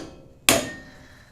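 A torque wrench clicks once on a 32 mm upper ball joint nut on a Toyota 4Runner, a single sharp metallic snap close by that rings briefly and fades.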